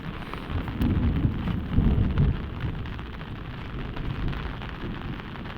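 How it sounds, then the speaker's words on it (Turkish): Steady heavy rain pours down on farm fields during a sudden downpour, with low rumbling thunder swelling near the start and a dense, continuous wash of falling water throughout. "Yağan yağmur belli."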